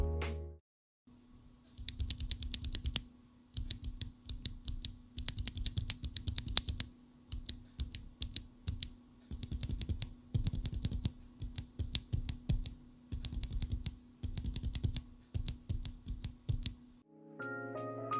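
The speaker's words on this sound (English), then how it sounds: "Here's a quick sound test to show the difference between the unlubed switch and the lubed and film switches" Rapid bursts of clacky typing on a Novelkeys NK65 Entry Edition mechanical keyboard with Evereglide switches, unlubed versus lubed and filmed, come in repeated runs separated by short pauses, close and crisp over a faint steady hum.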